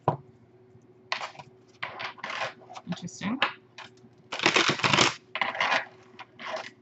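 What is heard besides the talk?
shuffling tarot cards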